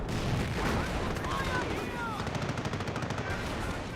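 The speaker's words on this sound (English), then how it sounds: "Going back through the gauntlet of artillery." Artillery and gunfire from the World War II strategy game Company of Heroes, a dense, steady barrage of booms and crackling shots under faint whistling, with a voice talking over it.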